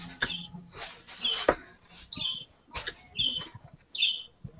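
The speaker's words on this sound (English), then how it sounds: "Bird really loud." A bird chirps loudly nearby in a burst of sharp, high tweets repeated several times in quick, uneven succession, with rustling and small thumps in between.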